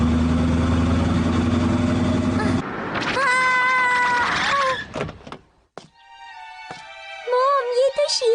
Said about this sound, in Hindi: म्याऊ म्याऊ म्याऊ म्याऊ